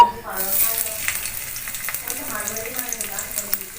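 Chopped onion hits a hot pan and starts frying, with a sharp initial sizzle that settles into a steady crackling hiss and occasional stirring clicks, close and loud.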